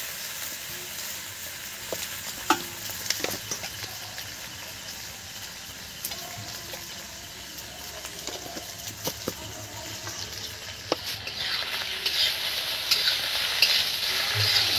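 Potatoes frying in a pan with ground black pepper and salt sizzle steadily while a utensil stirs and scrapes through them, with intermittent clinks against the pan and the sizzle growing louder toward the end.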